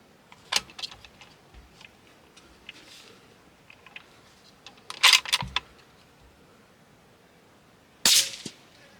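A rifle firing 40 grain bullets, with sharp isolated cracks spread across a quiet background. The shots come at irregular intervals, the last two louder and close.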